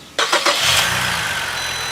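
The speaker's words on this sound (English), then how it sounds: "And now I'm gonna go and try to start the car." A Saab car engine cranks with a few rapid starter bursts, then catches and settles into a steady idle, close and fairly loud, with no talking.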